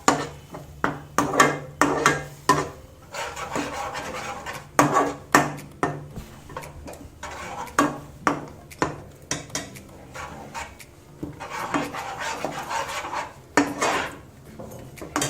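Thick paneer masala gravy is roasted in a pan over medium to high flame, a spoon scraping and clanking against the metal in quick irregular strokes, close and without talk.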